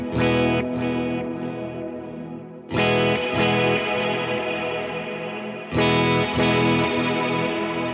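Guitar chords through an M-Vave Blackbox set to a super bright reverb with full high pass, three strummed chords ringing out in turn, each sustaining and shimmering with a chorused, slightly distorted wash and no voices.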